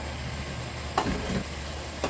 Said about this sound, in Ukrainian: Все перемішую і смажу на великому вогні приблизно одну хвилинку.